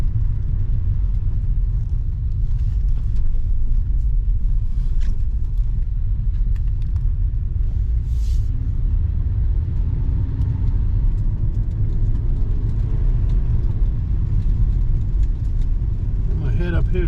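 A 1997 Mercedes C-Class drives along the road, a steady, loud low engine and road rumble filling the whole stretch, with a faint rising whine near the end.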